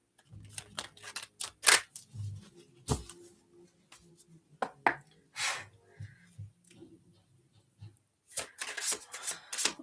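Tarot cards being shuffled by hand: a series of crisp riffling, flicking and slapping bursts in irregular clusters, close and fairly quiet, with quiet breathy vocal sounds between them.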